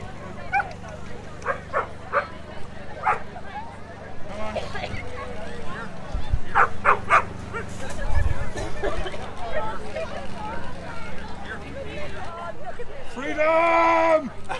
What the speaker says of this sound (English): There's a dog over there after getting free.